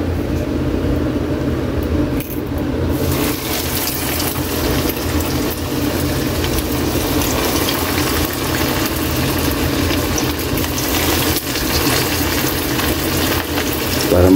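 Tuna steak fries in hot cooking oil in a home kitchen, giving a steady, dense sizzle that runs loud and unbroken throughout with a faint low hum beneath.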